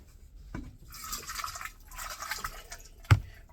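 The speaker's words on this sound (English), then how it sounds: "you just pour your water" Water poured into a bowl to rinse seeds, two short bursts of splashing and trickling close by, followed by a sharp clink of the bowl near the end.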